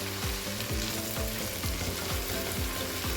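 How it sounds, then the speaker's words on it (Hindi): Ginger and garlic frying in a pan for Irani keema: a steady, loud sizzle with a regular scraping stir about every half second throughout, and no voices. "तब तक भुनेंगे जब तक अदरक लहसुन की जो एक वो कच्चा स्मेल होता है ना, वो जाता नहीं है"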